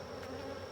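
Honeybees buzz around an open hive during an apiary inspection, a brief, steady, close drone with no speech.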